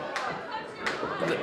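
Rhythmic clapping from the crowd at a small independent wrestling show, with three bright claps spread across the moment over a murmuring audience.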